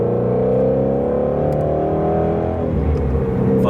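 A Shelby GT350 pulling away from a green light after break-in, heard from inside the cabin with the windows up: a steady, droning engine note that climbs gradually in pitch, with no talking.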